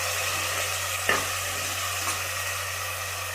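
Vegetables with beans and curry leaves fry in a pan for bisi bele bath, giving a steady sizzle with a couple of brief scraping stirs, no speech.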